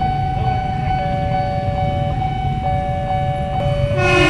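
A commuter train on the Jakarta–Bogor line passes a railway level crossing, its steady loud rumble rolling on throughout while the crossing signal dings in the background and a horn sounds near the end.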